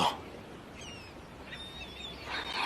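Faint seagull cries drift over a hushed outdoor background in Istanbul, a few thin calls rising and falling at a distance.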